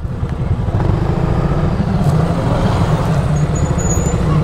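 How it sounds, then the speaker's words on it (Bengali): Engines rumble and idle nearby as motorbikes pull in at a bikers' camping festival in Comilla, Bangladesh, with a brief higher whine and traffic noise throughout. "তাহলে এদিকে ওই বাইকগুলো আসছে"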